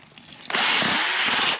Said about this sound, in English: I have a drill with a paint stir, which is add water slowly, mix it all in the feed